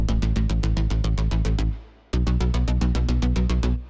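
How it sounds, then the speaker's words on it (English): A dense electronic pattern of rapid, evenly repeating synth hits over a deep, sustained low bass underneath, briefly dropping out before resuming loudly. "And then there's also this sub layer underneath."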